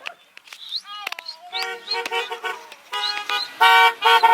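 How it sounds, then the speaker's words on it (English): Car horns honking on a street, a run of short beeps and toots that builds into longer, louder blasts, with several pitched horn tones overlapping near the end. "See, let's see if more people honk"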